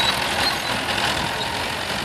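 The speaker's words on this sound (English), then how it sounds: "That's a good 1974 Gravely Riding Mower 812." A 1974 Gravely 812 riding mower engine runs steadily at a parade, a continuous broadband mechanical drone with no breaks and no talk over it.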